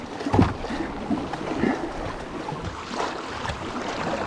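A kayak moves through choppy water in rough, stormy weather, with irregular splashes and slaps from the paddle and the waves against the hull, heard close at moderate loudness with no talking.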